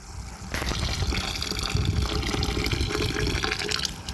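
Lemon juice pours steadily into a container after a brief quiet start, a continuous splashing trickle with no voices.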